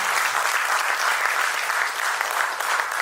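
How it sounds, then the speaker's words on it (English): A crowd at a book unveiling ceremony applauds the first female Vice Chancellor with loud, dense, continuous clapping that stays even and sustained from start to finish. "A huge round of applause for her."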